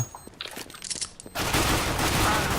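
Counter-Strike: Global Offensive gunfire erupts partway through as a loud, dense burst of rapid shots after a quieter stretch of scattered game noises.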